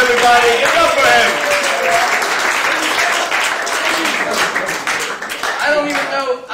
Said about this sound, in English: applause for Josh Guarino, everybody